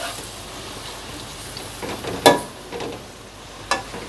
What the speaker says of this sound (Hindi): तो अब हम इसमें प्याज डाल देंगे। अब इसको हम हल्का सा फ्राई करेंगे।